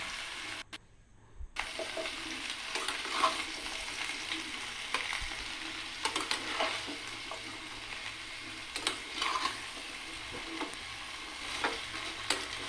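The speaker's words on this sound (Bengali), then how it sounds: "এবার আমি পাঁচফোড়ন দিয়ে আমড়াগুলোকে একটু কষে নেব।" Hog plums fry with panch phoron in hot oil in a wok, making a continuous low sizzle with occasional stirring scrapes and faint clatter, and no one speaks.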